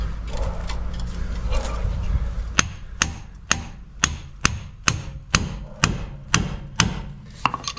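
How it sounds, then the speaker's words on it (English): Repeated hammer blows strike a tie rod separator fork driven around a stud on the outer tie rod end of a 2008 Chevy Equinox, about ten sharp, evenly spaced metallic hits close up after a few seconds of background noise. "the farther you hammer this in around that stud, the more it's applying upward pressure"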